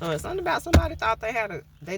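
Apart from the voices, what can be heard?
None of the usual background noises is heard.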